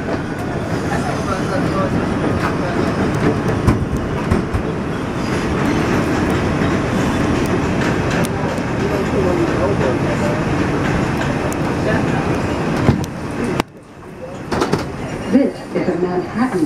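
A New York subway 2 train rumbles along loudly with clattering wheels and a steady roar, briefly dropping away near the end before noise resumes.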